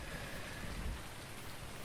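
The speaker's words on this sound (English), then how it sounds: "here we are with the second day of rain" Rain falls on a farm plot as a steady, even hiss of dense drops, moderately faint and unbroken, with no voices.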